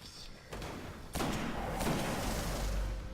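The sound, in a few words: gunshots in the video game Destiny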